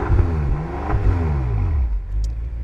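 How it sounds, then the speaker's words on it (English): A 2013 BMW M5 Competition engine revs in standard mode, rising and falling through a couple of deep, throaty sweeps close by before settling toward idle. "Now I'm gonna rev it just in its regular"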